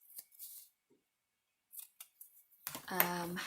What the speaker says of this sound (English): And we can cut off the excess.